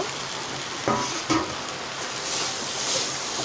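Fried potatoes are stirred into a simmering fish curry in a pan, a steady soft sizzle with two brief scraping knocks early on, then an even, gentle frying hiss close by.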